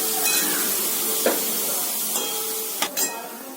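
A spoon stirs banana stem curry in a hot pan under a constant sizzle, with a few short scraping strokes against the metal rising above the hiss.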